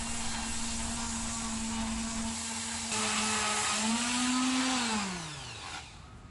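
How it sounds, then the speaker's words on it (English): Power sander working over an old varnished wooden front door, a continuous whirring hum that holds steady, rises briefly in pitch, then drops away as the tool winds down, close and loud with no talk. "The door's cleaning up, sanding really good."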